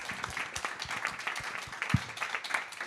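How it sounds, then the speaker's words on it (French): A small audience at a tech managers meetup claps in a short, moderately quiet round of applause, with individual hand claps distinct and one louder close clap standing out. "On peut les applaudir."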